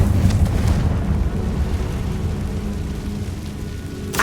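A blasting curse explosion in the Hogwarts Legacy video game rumbles as a loud, sustained low roar with a crackling, debris-like tail that fades gradually over several seconds.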